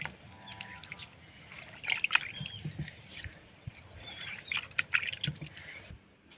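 Water used to wash a stone grinding slab being poured and scooped into gravy: faint intermittent splashes, drips and trickles with small clinks, soft and close, no talk.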